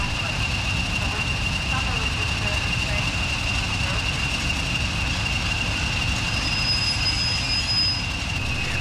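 Class 24 diesel locomotive on a heritage railway running into platform 4, with a steady engine drone, a thin high wheel squeal and continuous rumble, fairly loud and close, with a voice speaking over it.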